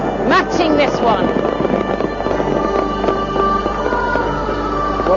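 Fireworks at the Beijing millennium midnight celebration, with crackling bursts and whistling rockets at a distance mixed into crowd noise and voices, continuous and moderately loud.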